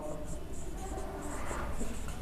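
Chalk or marker writing on a board during a GST accounting lesson for class 11, heard as soft continuous scratchy strokes under steady room noise, with a teacher's voice faintly present.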